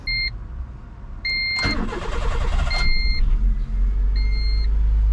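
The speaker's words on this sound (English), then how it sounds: "I'm gonna drive the car around the block and make sure the brakes and everything work" A Honda CRX engine cranks and starts, then idles and rumbles steadily, with a few electronic beeps before and after the start.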